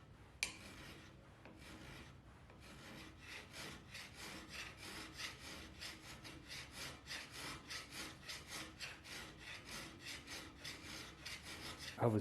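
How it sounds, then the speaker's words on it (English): Hand file draw-filing a knife blank flat after rough grinding, giving a long run of steady, rhythmic rasping strokes, close and even, with a sharp knock near the start and end. "I was draw filing this to flatten this out"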